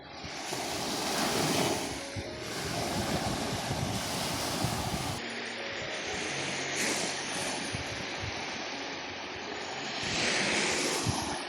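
Sea waves washing ashore at sunset on the Danish coast, a steady, close roar of surf mixed with gusty wind buffeting the microphone, swelling slightly toward the end, with no voices.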